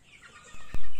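ELBA chickens peck eagerly at wet feed, giving soft clucks and then a loud burst of pecking and clatter close by.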